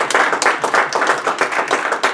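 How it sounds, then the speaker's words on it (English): Meeting attendees in a room applaud, a steady burst of many hands clapping close and loud from start to finish, with no talking over it. "Give yourselves a round of applause this morning for being here."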